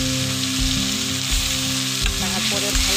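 Spice paste hits hot oil in a pan while pangas fish is cooked village-style. A loud, continuous sizzling hiss sits over a steady low humming drone with shifting tones, with no talking.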